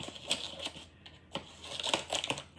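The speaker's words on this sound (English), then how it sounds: "Let me get my knife out to cut the seal. My scissors." Scissors snip and crinkle through a package seal close by, a few sharp cuts and rustles with brief pauses between them, fairly quiet.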